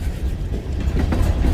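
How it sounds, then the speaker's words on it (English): A long Kiamichi Railroad freight train rolls slowly past at Fort Towson, Oklahoma, giving a steady low rumble with faint clickety-clack of wheels over the rails, continuous and fairly close. "it's because they got a very, very long train"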